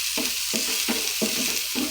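Fried rice with minced fish sizzles in a pan as it is stirred and tossed, a close, constant hiss broken by quick rhythmic scraping strokes.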